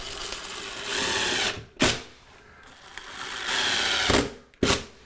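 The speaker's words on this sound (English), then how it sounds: "we're screwing into softwood lumber, so we don't have to pre-drill" A power drill whirs in two long bursts driving screws into softwood lumber without pre-drilling, each ending with a sharp clunk as a screw seats, close and loud.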